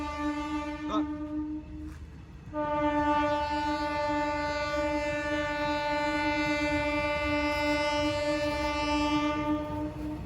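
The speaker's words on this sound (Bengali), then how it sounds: "গাইস আমি উঠে গেছি আর ট্রেন যাচ্ছে," A train horn blares with a long, steady sustained tone, briefly breaking off before sounding again, over the rumble of rail cars passing close by.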